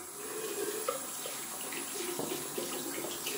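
A shaving brush is rinsed under a running bathroom tap, water streaming steadily with soft splashing changes as the brush moves through the flow.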